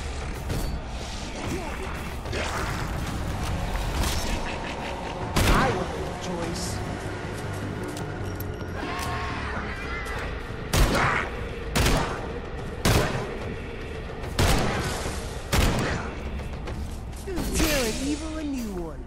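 Repeated gunshots ring out in Evil Dead The Game, with sharp bursts scattered across the stretch and several loud cracks near the end, all over a constant layer of game music and ambience.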